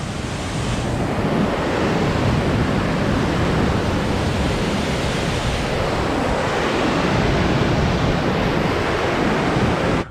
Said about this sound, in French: c'est le vent et l'eau